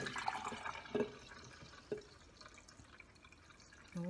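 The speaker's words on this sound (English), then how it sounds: "I'm going to pour that liquid in." Liquid poured into a measuring jug in a classroom capacity lesson, with a few soft drips and trickles, intermittent and faint, separated by quiet gaps.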